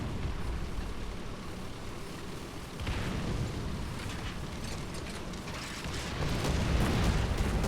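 Artillery shells bursting in the War Thunder video game, heavy low booms and rumbling impacts amid steady battle noise, growing louder near the end.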